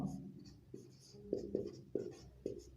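Pen or chalk writing on a board during a class-10 coordinate geometry lesson, with short scratchy strokes and taps in an uneven rhythm, close and fairly quiet.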